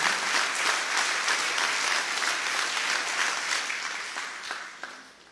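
A gathered crowd gives loud sustained applause in support of the Armenian Apostolic Church, steady dense clapping that gradually tapers off near the end.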